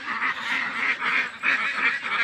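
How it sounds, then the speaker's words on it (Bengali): Ducks on a farm quacking in a busy overlapping flock, repeated nasal calls rising and falling steadily, fairly close and continuous with no talk. "আমাদের খামারে অনেকগুলো হাঁস"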